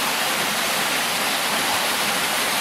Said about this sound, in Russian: О, водопад.